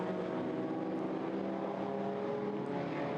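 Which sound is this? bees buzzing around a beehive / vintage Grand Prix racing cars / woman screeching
vintage Grand Prix racing cars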